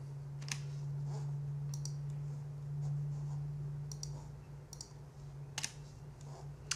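Sharp computer mouse clicks come in a sparse, irregular scatter over a steady low electrical hum, with single and double clicks spaced a second or more apart and no talking.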